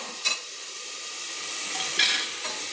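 Ginger-garlic paste being stirred in hot oil in a pan for a quick pressure-cooker chicken curry, a steady close sizzle with soft scraping stirs and a couple of brief clinks.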